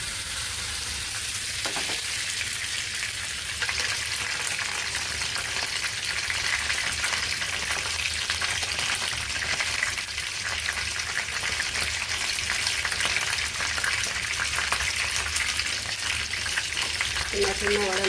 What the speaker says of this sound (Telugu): చిన్న చిన్న వడలు వేసుకొని నూనెలో కాల్చుకోవాలి ఎర్రగా వచ్చేదాకా